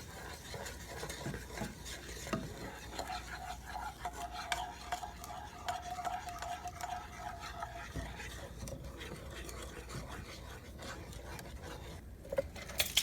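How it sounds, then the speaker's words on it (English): A honey glaze sauce with sugar is stirred in a pan, giving a soft continuous scraping and faint sizzle, quiet and close, with no voices. "Give that a stir as well."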